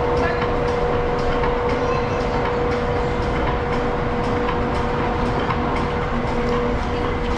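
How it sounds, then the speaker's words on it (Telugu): The Palm Jumeirah monorail train rolls along in a steady, loud rumble with a faint sustained whine, heard from on board, with possible faint voices in the background. "ఇదంతా కూడా మోనోరైల్."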